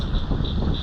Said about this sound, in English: Jeez, it's windy out.